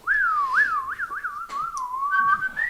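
Neil whistles a short wavering tune, clear and close, with quick rising and falling pitch glides and a couple of brief breaks.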